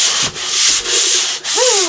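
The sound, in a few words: sanding wood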